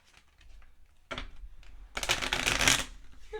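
Deck of reading cards being shuffled by hand, a quiet rustle followed by a louder, rapid riffling burst of flicking cards, close by.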